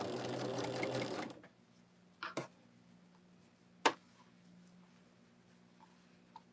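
Sewing machine stitching quilt blocks, a fast close whir for about a second that stops, followed by a few faint clicks and handling taps over a low hum.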